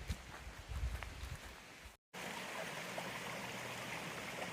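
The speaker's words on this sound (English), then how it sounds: "luckily the shelter's got a nice little water supply here" A small stream of water trickles steadily beside an Appalachian Trail shelter, a soft, constant babbling wash close by, heard alone with a brief cut to silence partway through.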